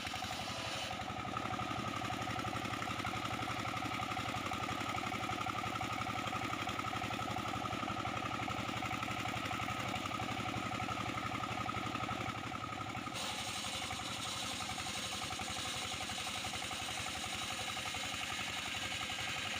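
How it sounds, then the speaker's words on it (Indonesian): A 24 PK dompeng engine powers a homemade portable sawmill cutting old jengkol timber, giving a steady droning rumble that runs unbroken for the whole stretch, fairly loud, with no voices. "Sementara mesin penggerak digunakan mesin dompeng 24 PK."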